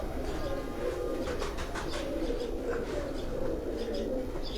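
A pigeon coos steadily from a rooftop loft, its soft, repeated calls close and continuous over a dense bed of background noise, with no talking.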